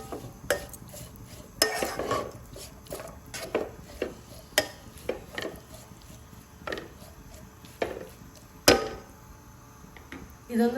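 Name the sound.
stirring beetroot pachadi in a pan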